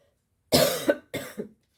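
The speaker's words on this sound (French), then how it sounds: "Excusez-moi, je tousse toujours." Two rough coughs in quick succession, close and fairly loud, with no talking.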